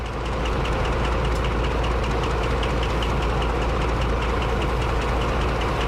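A simulated Class 35 diesel railcar runs steadily through points on a video game line, its engine drone and wheel rumble continuous and loud with faint rhythmic clicks throughout.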